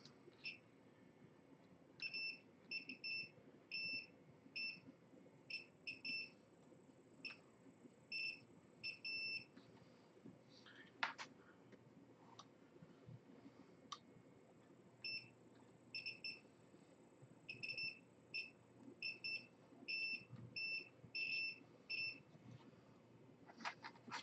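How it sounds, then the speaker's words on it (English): Multimeter continuity beeps sound as probes touch an IC pin and its pad during surface mount soldering practice; repeated short high-pitched beeps come in bursts of varying length over a quiet background. "the meter will beep if the contact is good"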